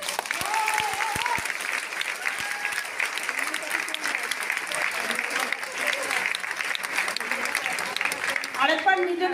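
A crowd claps hard and fast at a Mi Lifestyle Marketing gathering, a dense, continuous roar of hand claps lasting several seconds, with voices mixed in beneath it.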